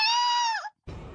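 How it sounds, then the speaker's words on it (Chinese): A sudden, shrill, voiced scream rings out from deep within a palace. It holds a high pitch, bends downward, then cuts off abruptly, leaving a brief silence before faint background noise returns. "广寒宫深处突然就传出了一声尖叫。"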